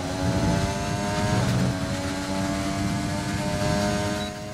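Formula 1 car engine in the F1 2020 racing game, a loud steady high-pitched drone with layered harmonic whine holding throughout, easing slightly near the end, with no talk over it.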